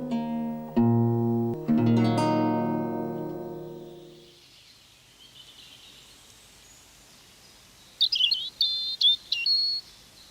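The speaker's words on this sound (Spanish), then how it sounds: "Los cantos de los pájaros son una presencia continua en casi cualquier ecosistema" Birds sing in the open: a few loud ringing bell-like notes fade out slowly, then after a quiet stretch a series of sharp high chirps and tweets arrives in quick bursts near the end.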